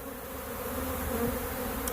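A honey bee swarm near a tree limb carrying queen pheromone drones in a steady, continuous buzz that holds at an even level throughout, with no voices over it.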